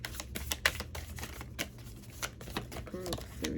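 Tarot cards are shuffled close up in a rapid, uneven run of crisp riffling clicks and flutters, while a voice talks faintly alongside.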